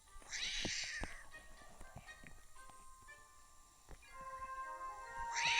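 A video-game cat meows twice with a drawn-out, whiny call, separated by soft background tones and light tapping, fairly quiet overall.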